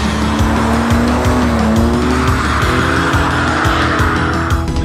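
A car drifting around a race circuit during a track day, its engine roaring loud and close while the tires squeal in long sustained howls, the skid noise swelling and fading across repeated slides with no one speaking.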